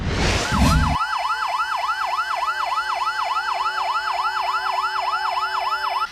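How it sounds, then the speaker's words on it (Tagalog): Fire truck sirens in the Lapu-Lapu City Fire District wail in a steady, rapid rising-and-falling cycle, loud and close, with a constant low tone underneath. "gipatingog ang mga siren sa mga fire truck sa Lapu-Lapu City Fire District karong adlaw"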